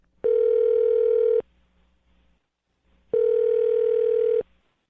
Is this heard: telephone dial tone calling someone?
yes